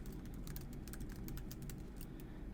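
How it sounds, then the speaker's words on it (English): Fingers type on a computer keyboard in quick, irregular bursts of light clicks, steady and fairly close, over a low background hum with no speech. "go ahead and type in your username"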